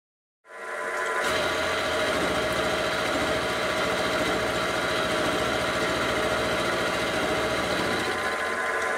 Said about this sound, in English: it's definitely nicer to use the mill now. Definitely less chatter and a much nicer surface finish.